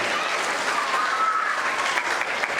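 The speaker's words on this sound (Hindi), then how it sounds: "मैं आप सब लोगों को बोलता हूं, एक ताली होनी चाहिए" A burst of continuous applause from a crowd, dense and even in loudness throughout, with no voices over it.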